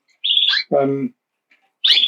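A caged pet bird chirps in two bright, close bursts, with a brief low voice-like sound between them and a short quiet gap before the second burst.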